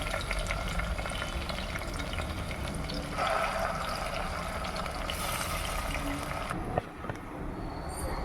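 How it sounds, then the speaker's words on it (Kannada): Masala-coated food frying in a little oil, a steady dense sizzle with stirring scrapes, getting louder in the middle and briefly dropping off near the end. "ಆಮೇಲೆ ಇದಷ್ಟು ಹಾಕಿಬಿಟ್ಟು ಅದಕ್ಕೆ ಫ್ರೈ ಮಾಡ್ತೀನಿ."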